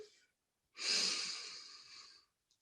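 A single slow, soft inhale drawn in through the nose during a guided meditation, close and quiet, lasting about a second and a half with near silence around it.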